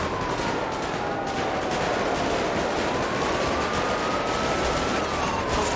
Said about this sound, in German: Shot fired aus dem Escalade!